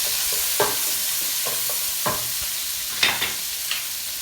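Garlic and capers sizzling in a pan over a medium flame for chicken piccata, a constant bright frying hiss broken by several sharp spatula scrapes and taps.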